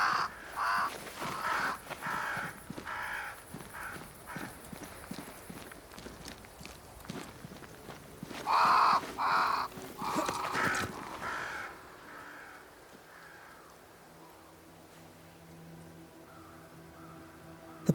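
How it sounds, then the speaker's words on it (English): Crows caw in the video game Banishers: Ghosts of New Eden, flocking around a great tree, with several short, fairly loud calls scattered among soft footsteps and ambient game sound, fading toward the end. "crows. They flock to that great tree up there."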